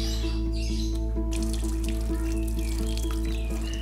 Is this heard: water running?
yes